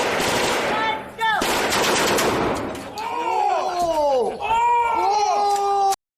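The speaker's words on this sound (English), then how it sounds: "That's an automatic shotgun. I think it was a Saiga" A Saiga automatic shotgun fires in rapid bursts in a video game, loud and close, with bright metallic ringing tails and a short pause between volleys, a voice briefly audible underneath.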